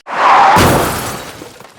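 A glass-shattering sound effect: a loud crash of breaking glass with a bright burst of tinkling shards that rings out and fades over about a second, heard alone.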